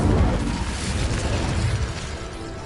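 A fire spell is cast in Hogwarts Legacy, giving a dense, roaring burst of flame with a crackling, broadband rush that stays loud and steady for a couple of seconds, with no talk over it.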